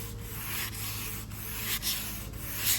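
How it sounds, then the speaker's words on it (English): Hand sanding on the guide-coated body panel of an accident-damaged Audi S3 8L, moving up toward 600-grit paper. Close, steady rasping strokes repeat roughly every half second with no talking. "sanding it back."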